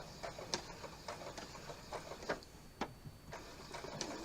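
A sewing machine back stitches a fabric napkin ring with a straight stitch, a quiet steady run of fast ticking and mechanical tapping, close but faint.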